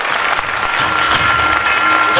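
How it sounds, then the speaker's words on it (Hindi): Audience clapping steadily for a man's wife at an achievers' event, a dense, continuous wash of applause lasting a couple of seconds at close range. "मेरी वाइफ के लिए एक बार जबरदस्त तालियां होनी चाहिए"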